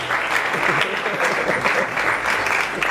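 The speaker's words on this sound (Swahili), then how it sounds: "Tupige makofi Pastor Anton" A church crowd breaks into loud, sustained applause for Pastor Anton, with the clapping filling the room evenly for about three seconds and voices faintly mixed beneath it.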